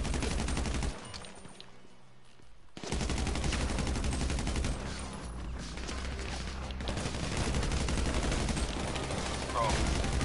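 Heavy gunfire in GTA Online, with dense automatic bursts and rapid shots that briefly drop out, then resume loud and continuous, with a player talking over it.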